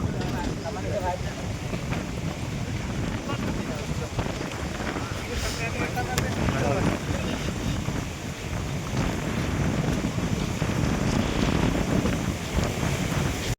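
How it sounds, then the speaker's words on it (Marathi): Strong storm wind roars against the microphone in continuous loud gusts at a Datta Jayanti festival in Gaganbawda taluka, with a rumbling, surf-like wash underneath and no clear voices. "वारा बघा किती सुटला आहे, वादळ आहे 2 दिवस"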